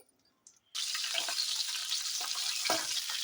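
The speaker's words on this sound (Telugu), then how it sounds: "మనం ముందుగా కట్ చేసుకొని పొటన్స్ ఉన్నాయి కదా, వీటిని డీప్ ఫ్రై చేసుకోవాలి" Cut potatoes dropping into hot oil for deep frying: after a brief near-silence a loud, dense bubbling sizzle bursts in and holds steadily, close by, with a few stirring knocks, no talking.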